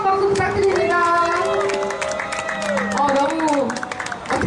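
An audience at an outdoor labor-struggle cultural event applauds a performer, steady massed clapping blended with crowd noise and a voice or music running through it.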